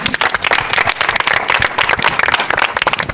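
A church congregation claps and applauds together, a dense continuous patter of many hands close by, lively and loud throughout.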